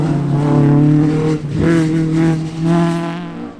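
Mark II rally car engine revving hard on a stage at Shackleton, Northern Ireland, during a winter series rally. The loud, steady howl dips briefly as it lifts off, then climbs again.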